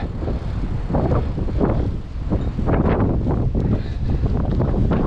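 Strong wind buffets a microphone outdoors, roaring in uneven gusts that swell and ease without a break. The wind is loud and close, and no voices are heard.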